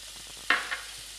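Green chillies hitting hot oil while cooking a Bengali egg curry, a sudden sharp sizzling hiss that flares and fades within a second against a quiet background, close up.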